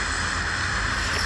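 A steady droning airplane engine from a battle royale video game, a constant loud hum heard alone for a brief moment.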